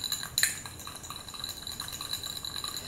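Homemade probiotic toothpaste mixture stirred in a bowl, light repeated clinks and scrapes of a utensil against the bowl, close and fairly quiet, with one sharper tap near the start.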